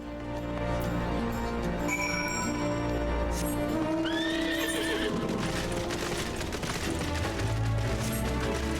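A horse in the video game Final Fantasy XIV whinnies loudly and clip-clops along at a steady pace over a layered game soundtrack.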